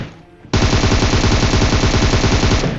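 Rapid automatic gunfire from a battle royale video game bursts in abruptly after a quiet half-second and keeps firing as a loud, continuous stream of shots.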